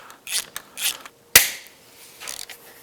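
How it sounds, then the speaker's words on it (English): A ratchet wrench loosening tight bolts on a Yamaha YXZ1000R engine during a rebuild: short bursts of clicking, then a single sharp crack as a bolt breaks free, followed by more ratcheting, close and alone. "I'm having to put a fair amount of torque on this to get them removed."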